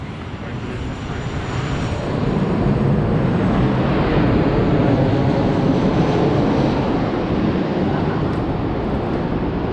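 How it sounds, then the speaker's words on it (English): A loud, steady roar of an airplane passing overhead in Heraklion, Crete, swelling and holding as a broad rumbling wash of engine noise. "What you are hearing is the aeroplanes."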